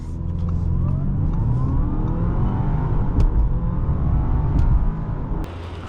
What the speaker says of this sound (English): Today we are driving a 2024 Audi A6 45 TFSI Quattro on our channel.